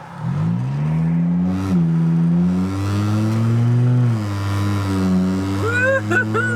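A straight-piped MK5 Volkswagen Jetta with the 2.5L engine drives down a street, its loud, droning exhaust rising and falling as it accelerates and eases off, heard from inside the car.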